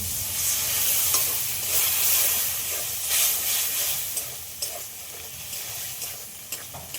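Spice paste fries in a pan with a little added water for a fish curry. A loud hissing sizzle fades gradually, and intermittent stirring scrapes and spatters sound close by.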